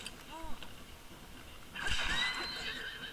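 Horse in Zelda Breath of the Wild lets out a short whinny, then hooves clop and game effects rise; a single neigh early, fairly quiet, with no talk over it.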